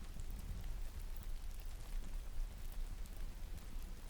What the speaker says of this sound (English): I could put on rain instead.